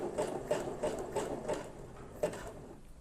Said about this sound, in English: Slowly push down on the pedal. And you'll see it go side to side.